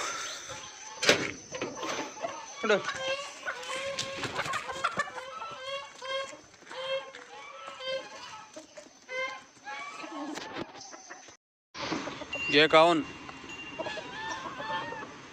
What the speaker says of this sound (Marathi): चला रे कोंबड्या हो